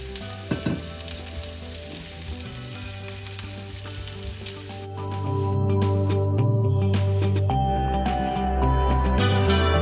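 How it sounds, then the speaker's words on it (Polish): Steady loud sizzling of onion frying in a hot pan, continuous crackle that grows fuller and heavier partway through, with no talking. "Na rozgrzaną patelnię wrzucamy cebulkę i smażymy tak długo, aż się lekko zarumieni."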